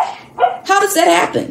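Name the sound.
dog barking in the background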